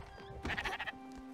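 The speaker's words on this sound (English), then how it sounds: "Sheep are doing their sheep things." Sheep in the video game Spiritfarer give a single wavering bleat at moderate distance, rising out of a quiet ambient background and fading after about half a second.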